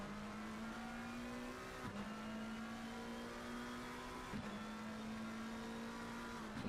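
McLaren race cars in Assetto Corsa Competizione at the Hungaroring scream at high revs, with several brief dips where gears shift or the throttle lifts before the steady whine resumes, loud and continuous with no talk.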